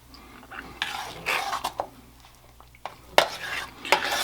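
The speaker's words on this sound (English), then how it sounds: "we're going to add in 2 cups of mozzarella cheese and about a 1/4 cup of shredded parmesan, and stir this until it's completely melted" A spoon stirs mozzarella and shredded parmesan into a sauce in a pot, with soft scraping and clinking strokes at an irregular pace, close and fairly quiet.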